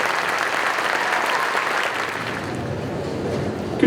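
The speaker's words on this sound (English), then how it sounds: "Let's give the 8th graders another round of applause." Applause for 8th graders at an ArtsFest evening concert, a full steady clapping from the audience that thins slightly toward the end.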